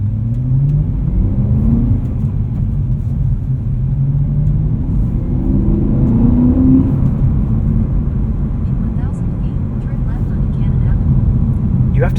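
BMW E92 M3 Lime Rock Edition with a naturally aspirated V8 and 6-speed manual, heard from inside while driving: a continuous low engine rumble with repeated rising rev sweeps, with a voice talking over it.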